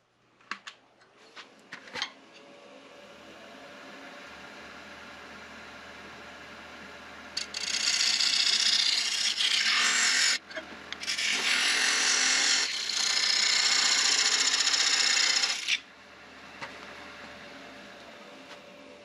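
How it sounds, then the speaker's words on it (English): A wood lathe makes a parting cut to separate the bottom half of a turned wooden cocktail smoker. The tool scrapes with a harsh hiss in two long bursts broken by a short pause, over a steady motor hum, with scattered clicks before and after. "I'm going to start parting it where I'm going to separate the bottom half from the top"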